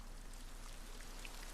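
Steady, soft hiss of rainfall in the video game Ghost of Tsushima, an even wash of patter with no talk, faint and constant throughout.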